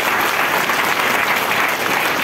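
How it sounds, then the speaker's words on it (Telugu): An audience at a direct-selling business plan meeting breaks into loud, dense, sustained applause, many hands clapping evenly throughout with no pause. "sir గట్టే clap కొట్టొచ్చు"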